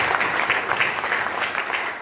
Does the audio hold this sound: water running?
no